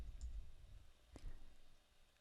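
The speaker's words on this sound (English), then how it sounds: "or you can click the drop-down" A single quiet mouse click on a drop-down menu in office software, a brief sharp tick standing alone against faint background hiss.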